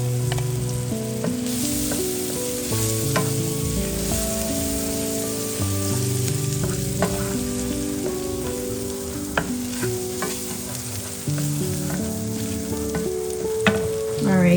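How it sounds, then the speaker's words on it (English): Crushed garlic frying in melted butter and being stirred, a soft steady sizzle close by, with background music playing throughout and a few light taps from the utensil. "So I'm applying the garlic right now, and then we're gonna give it a stir before we add the honey."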